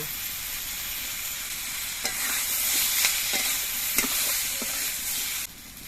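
Vegetables frying steadily in a pan with turmeric, cumin and black pepper powders stirred in, a continuous broad sizzle with a few soft spatula scrapes and taps, close and fairly loud, easing off near the end.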